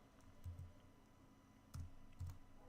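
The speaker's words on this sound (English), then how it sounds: "Why am I typing? I should be just copying." Quiet keystrokes on a computer keyboard during a live chat session, coming in a few short clustered bursts of taps spread apart, with a steady low background hum between them.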